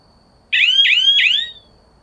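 An electronic bird-scaring beeper in a pear orchard sounds three quick, shrill chirping beeps in a row, loud and close against a quiet background.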